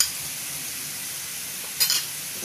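Onions fried golden brown in a pan with turmeric and garam masala give off a steady, close sizzling hiss, broken by a brief scraping stir near the end.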